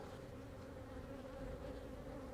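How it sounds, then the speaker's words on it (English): Honey bees buzz steadily inside an opened, queenless beehive of old bees coming out of winter, a dense continuous hum close by with no talking. "Still got a decent amount of bees in here, but not very many."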